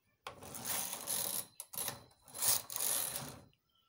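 Knitting machine carriage sliding across the needle bed while knitting border stitches: three close mechanical whirring rattles, each about a second long, separated by brief pauses before a quiet end.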